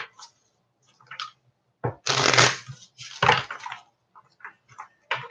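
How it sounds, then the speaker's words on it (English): A deck of playing cards being shuffled by hand in a quiet room, several bursts of riffling and flapping separated by short pauses, close and crisp. "These cards are hard to shuffle."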